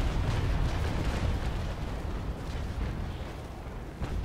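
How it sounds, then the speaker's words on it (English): Ship cannons fire in a naval battle game: a dense, continuous rumble of booming shots and bursts that stay loud and overlap throughout, with no clear voices. "Who's shooting me, guys?"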